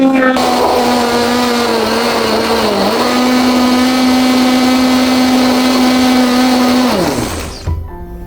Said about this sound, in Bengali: এই তো তরমুজটা ব্লেন্ড করা হয়েছে